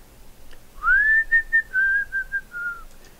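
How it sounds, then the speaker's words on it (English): A clear, melodic whistled tune from a hipster pop song: a rising note followed by a string of sustained, gliding phrases, close and alone with no talking. "have you heard that hipster song with the whistling?"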